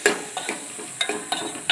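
Bottle gourd curry being tempered and stirred in a pan: sharp scraping and tapping strokes at an uneven rhythm over a steady frying sizzle, close and fairly clear.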